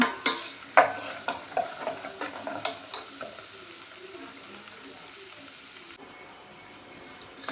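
Ghee clarifying from homemade butter in a pan, a soft continuous sizzle and simmer with a run of sharp utensil taps against the pan early on that fade, leaving a quieter steady bubbling.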